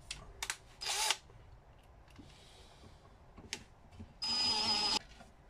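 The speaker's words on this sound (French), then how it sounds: "je travaille à la perceuse" Cordless power drill driving screws into a mount on a bait boat, with short whirring bursts separated by quiet handling noises and a final longer sustained run.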